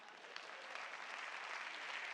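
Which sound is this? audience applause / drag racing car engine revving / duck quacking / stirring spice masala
audience applause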